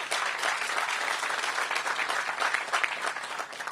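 Audience applause at a Ward 8 entertainment and sports arena ribbon cutting, honoring ANC chairs: steady, dense clapping from a crowd, sustained and even throughout without talk.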